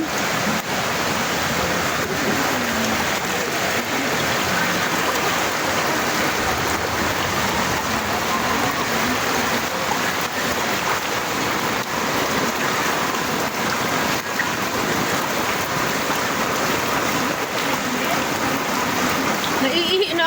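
Steady rain pours down continuously over a flooded subdivision, a dense, even hiss lasting throughout, with occasional voices underneath.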